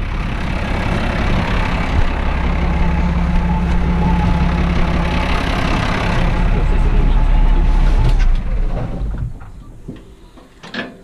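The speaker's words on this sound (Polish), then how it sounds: "Muszę gasić ciągnik" A farm tractor idles loudly and steadily nearby during hay baling work, a constant low rumble with metallic rattles that drops away near the end as the engine is shut off.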